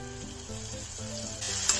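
Paste of onion, cashew and garam masala sizzling steadily in a hot pan for a fish curry, a close, continuous frying hiss with a brief louder burst near the end, no talking.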